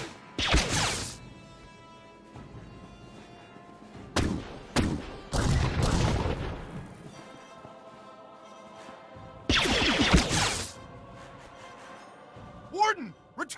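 A blaster firefight in Star Wars: The Old Republic, with several loud bursts of rapid shots separated by quieter gaps. Spoken game dialogue and other effects are heard between the volleys.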